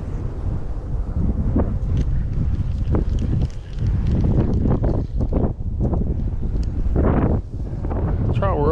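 Strong gusty wind at a pond buffets the microphone in a steady roar with surging gusts throughout, a few faint rustles and knocks underneath.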